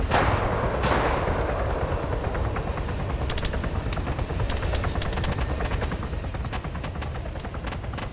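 Helicopter in the game ARMA 3: a steady, loud rotor drone throughout, with scattered bursts of gunfire and sharp clicks over it.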